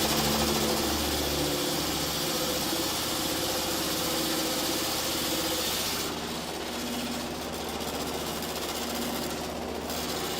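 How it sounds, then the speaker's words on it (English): An old, worn motor mill grinds corn into maize flour in a village, a loud, continuous mechanical rumble and rattling vibration that runs unbroken from start to finish. "Mr. Matuta's motor mill is an important venue for villagers from near and far who grow corn on their meager plots"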